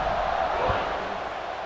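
A stadium crowd in the College Football 26 video game, Wisconsin against Michigan, hums with a steady, dense roar of many voices at a constant level, with no single shout standing out.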